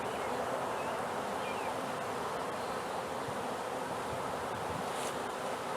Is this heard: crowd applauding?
no